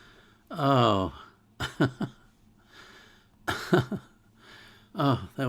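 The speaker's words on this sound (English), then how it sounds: "I wish I could get rid of this cough." A run of rough, strained coughs and throat-clearing sounds arrives in separate bursts, close and fairly loud.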